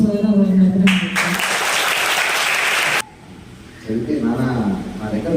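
A school audience bursts into applause for donors at a book distribution event, a dense burst of clapping lasting about two seconds between stretches of talking, then fading as a speaker resumes under light crowd noise.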